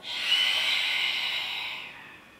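A steady, breathy exhalation during a Pilates exercise, a long airy hiss of breath lasting about two seconds and fading gently at the end, close and moderately loud with no talk.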